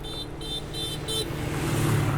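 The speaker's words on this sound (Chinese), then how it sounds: "不知道为什么他们就那么爱按喇叭，一直要很大声的" Car horns honking on a road, short repeated toots over steady traffic engine noise, fairly close and loud.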